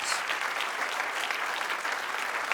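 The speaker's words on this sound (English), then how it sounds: "So if you could give one last round of applause for those students." Audience applause for students at a university film and television awards ceremony, a loud, dense burst of many hands clapping at once, sustained throughout without speech.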